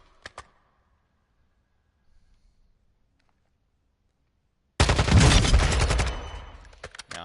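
Automatic gunfire from a tuned, min-maxed weapon in a video game firing range: a couple of brief shots at the start, quiet, then a loud, rapid sustained burst of close fire lasting over a second, ending in a short shot.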